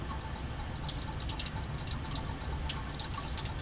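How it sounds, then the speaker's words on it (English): Running tap water pours steadily over a lab spatula being rinsed after use with sodium hydroxide, a continuous close splashing hiss with no pauses. "Just rinse that thoroughly."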